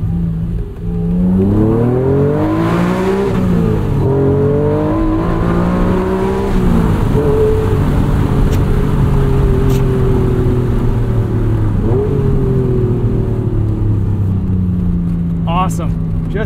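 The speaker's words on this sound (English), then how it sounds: "Do a little acceleration here." A 1992 Acura NSX accelerates hard through the gears from inside the cabin, its engine note rising repeatedly and dropping at each shift, loud and close.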